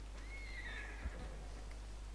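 A horse whinnies in a Wild West role-play video game, a thin rising and falling neigh of about a second over a steady low hum.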